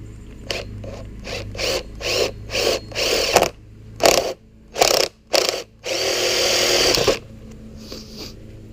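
A power drill bores a hole in a 2022 Honda Grom SP motorcycle, sounding as a run of short, close, whining bursts with brief pauses, then one longer sustained drilling pass before stopping. No one speaks.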